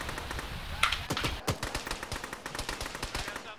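Rapid gunfire rattles through a tactical military shooter game (Arma, ShackTac session), with quick repeated shots and short automatic bursts coming steadily at moderate distance.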